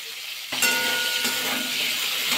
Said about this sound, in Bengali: গাজরটা দিয়েও একটু হালকা ভাজা করে নেব।